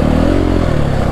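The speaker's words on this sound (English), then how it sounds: "Two strokes are really nice because they kind of just glide and there's no engine braking." A two-stroke dirt bike engine idles and buzzes close by on technical desert single track in Arizona, a steady low drone with light clatter and no sharp revving.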